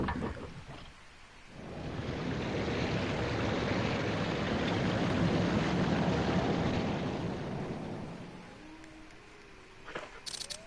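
Waterfall in the video game Resident Evil, a broad steady rushing roar that builds in, holds strongly, then fades away near the end, leaving quieter game sounds behind.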